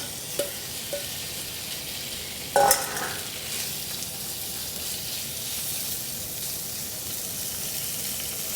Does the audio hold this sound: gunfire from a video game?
no